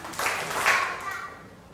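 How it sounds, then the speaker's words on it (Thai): A group of students claps in a classroom recreation activity, a brief burst of hand claps rising twice in quick succession and fading, somewhat soft and slightly distant. "กลุ่มที่หนึ่งปรบมือสองครั้ง"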